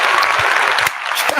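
A short, loud burst of close clapping and cheering plays as an applause sound effect, dipping briefly before picking up again at the end.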